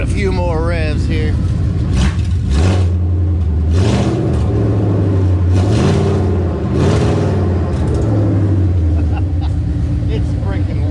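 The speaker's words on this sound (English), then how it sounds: "Give it a few more revs here." A loud, close Foxbody Mustang sleeper engine revs repeatedly, its rough rumble rising and falling in several strong pulls over a steady idle.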